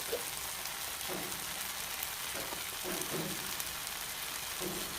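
Onions sautéing with meat masala, black pepper and coriander powder in a pan, giving a steady soft sizzle with faint intermittent stirring scrapes, fairly quiet and with no voices.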